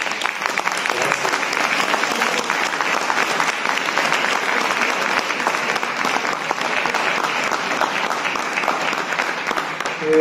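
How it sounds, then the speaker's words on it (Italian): Loud, dense applause from an audience at a church gathering in Pinerolo, steady and sustained throughout with no talking over it, swelling slightly at the very end. "Lo riceviamo con un forte applauso"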